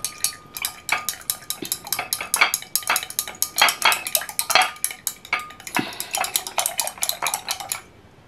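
A utensil stirs drops of vitamin C serum, The Ordinary ascorbyl solution among them, in a small dish. The clinking and scraping comes fast and close, in an unbroken run of sharp taps for about eight seconds before stopping abruptly. No one talks.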